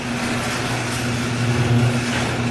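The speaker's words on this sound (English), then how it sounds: "the garage door is so noisy" A garage door opening with a steady mechanical hum and low motor drone, grinding continuously at close range.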